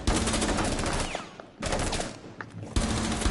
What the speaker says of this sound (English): They shot me.